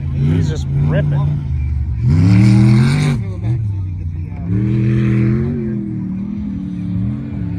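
A turbocharged dune buggy engine revs hard in repeated bursts, rising and falling in pitch as it accelerates, loud and close, with voices talking over parts of it.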